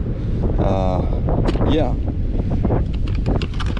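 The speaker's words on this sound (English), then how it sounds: "Even though it's extra windy" Strong wind buffets the microphone at a beach near a fishing pier, a steady roar running through the whole stretch while a person speaks briefly over it.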